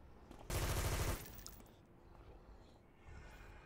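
A burst of rapid gunfire in City of Heroes, a loud stuttering volley lasting about half a second, then quieter game ambience with faint shuffling.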